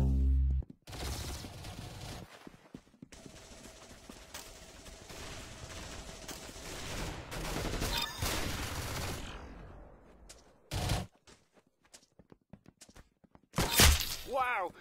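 Gunfire in a first-person shooter game, with sustained rattling fire through the middle and sharp separate shots near the end, mixed with game noise and some voices.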